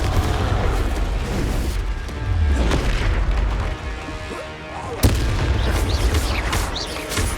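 Booming blasts from the Confringo blasting spell in Hogwarts Legacy, loud and dense with crashing impacts and a sharp hit near the end, layered over a heavy continuous combat rumble.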